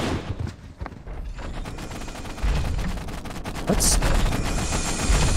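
Gunfire in Halo: Combat Evolved rattles almost continuously as dense rapid shots and heavy impacts that grow louder partway through, with a brief voice heard under the din.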